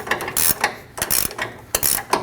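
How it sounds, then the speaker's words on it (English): A 21mm ratcheting wrench snugs down the nut on a cam adjuster bolt of a Chevrolet Express 2500, with several quick bursts of loud close clicking. "Using a 22mm wrench for the head of the bolt, we'll then use our 21mm wrench and snug the nut down."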